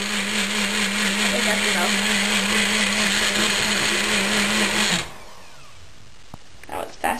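A Magic Bullet blender pureeing cheese dip whirs loudly and steadily for about five seconds, then cuts off, followed by a brief exclamation and light handling sounds.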